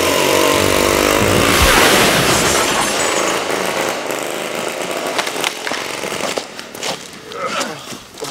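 Hotsy pressure washer running loud and close, a harsh roaring engine-driven blast that eases somewhat as it goes on, with clattering and knocks toward the end.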